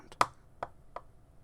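Close, quiet taps of a gemstone cube on a hard surface: a faint tick, a crisp louder tap, then two softer taps at a steady interval, with no voices.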